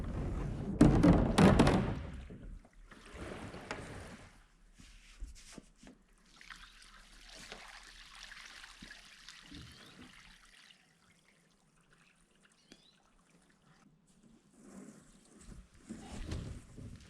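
Water poured out of the top of a tipped-up water storage tank used for hauling water in summer: a loud splashing gush at first, then thinner trickles and occasional thumps of the tank, fading to near quiet before another short pour.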